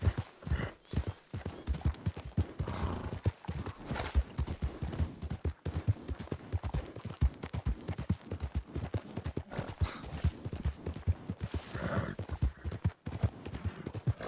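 Horse hooves clip-clop steadily in Red Dead Redemption II, a continuous brisk rhythm of close hoof falls with occasional faint snorts, no voices over it.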